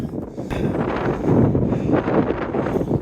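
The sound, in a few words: strong wind blowing against a PreTents Border Tent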